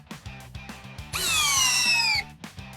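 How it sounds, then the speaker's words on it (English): A Ryobi cordless drill running in drill mode at speed 2, a loud, steady high whine of about one second rising in after light clicking and fading back to faint taps. "And it is in speed 2 in drill mode."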